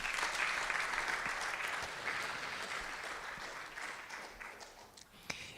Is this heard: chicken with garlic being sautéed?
no